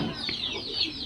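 Farmyard chickens cluck briefly and faintly at feeding time, with a few short, soft calls over low background noise.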